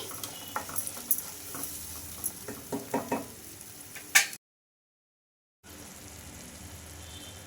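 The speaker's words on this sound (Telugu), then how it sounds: "బాగా కొంచెం ఫ్రై చేసుకోవాలండి" A paste for coconut vermicelli with coriander fries in a pan after a little water is added, giving a close sizzle with clicks of stirring and scraping. A short silence follows, then a fainter sizzle resumes.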